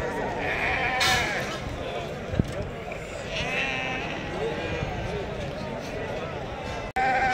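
Sheep bleat amid the crowd at a Tuesday livestock market in Azrou, Morocco, with calls rising intermittently over steady background chatter and people talking nearby throughout.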